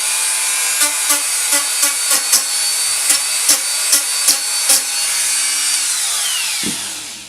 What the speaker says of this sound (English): because it is a sander, it sands those edges smooth